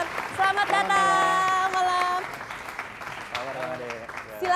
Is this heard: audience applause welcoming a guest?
yes